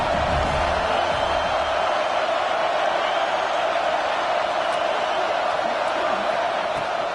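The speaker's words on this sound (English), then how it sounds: "Decibels rising as the crowd gets behind this defense on 3rd down." A football stadium crowd roars on third down as the defense takes the field, a dense, steady wall of cheering that fills the whole stretch without letup.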